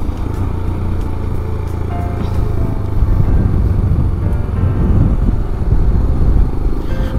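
Motorcycle riding a curvy mountain road near Gangtok on National Highway 10, engine droning loud and close with a low rumbling throb that swells slightly as the bike pulls, wind noise mixed in, no talking.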